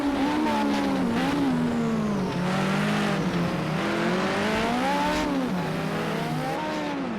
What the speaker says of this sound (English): although he can't quite get the power down out of there, and Mark Lee again pulls away from the blue